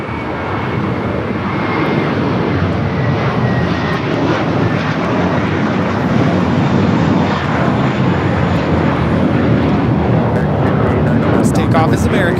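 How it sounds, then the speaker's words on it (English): Avianca flight 522, an airliner arriving at LAX from San Salvador, roars steadily and loudly throughout, a broad continuous engine rush with faint voices beneath it. "This arrival, Avianca 522 coming in from San Salvador."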